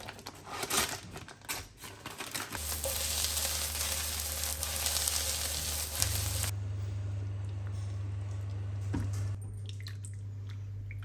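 Roscoff onions frying in butter in a pan, a steady broadband sizzle with soft crackles and wet popping that carries through the whole stretch, close and moderately loud, with no voices.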